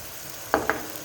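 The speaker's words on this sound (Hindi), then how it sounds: "यहाँ मुझे 2 मिनट हो चुके हैं लहसुन और अदरक को फ्राई करते हुए" Garlic, ginger, tomato and spices frying in a pan, a soft steady sizzle broken by two quick stirring scrapes, close and fairly quiet.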